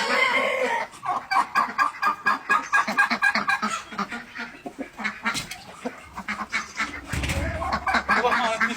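A flock of decorative chickens and a rooster cluck in rapid, busy bursts, close and loud, with a person speaking briefly near the end.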